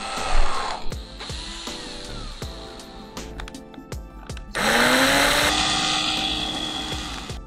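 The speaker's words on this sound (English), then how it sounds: "2mm drill bit." A small drill with a 2mm bit bores a hole during a Tamiya Bandwagon 4WD to RC conversion. It starts with short, stuttering bursts of motor whine, then settles into a sustained, louder run, close-up.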